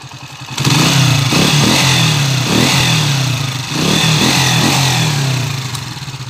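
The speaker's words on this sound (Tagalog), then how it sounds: "ito yung motor niya, TMX 155." A Honda TMX 155 motorcycle engine runs loud and close, with a steady, slightly rough idle and a faint mechanical clatter throughout.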